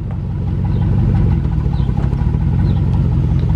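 A 2003 Chevrolet Tahoe 1500 with the 5.3 V8 rolls forward in drive, its engine giving a steady, loud low rumble close by with no talk over it.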